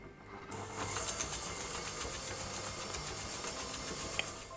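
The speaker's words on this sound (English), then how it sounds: "Now using a hand mixer or a stand mixer, we're going to beat this through until it's nice and creamy." A hand mixer beats a brown sugar mixture for cookie dough, a steady close whirring drone with a rattling, clattering texture that runs nonstop, heard alone.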